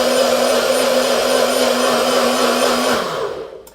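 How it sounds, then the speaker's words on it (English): A kitchen blender runs steadily with a loud, even motor whine and whirring churn, close by, then winds down and cuts off near the end. "I don't know if you can see this here, this blender right here."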